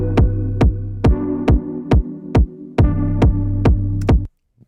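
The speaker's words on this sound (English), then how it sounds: "we'll just turn it up, and we'll start getting some sidechaining action" Sidechain compression in the Luna DAW makes a steady, loud pumping effect: about ten evenly spaced thumping kick hits, each ducking and swelling the sustained tone underneath, before the sound cuts off abruptly.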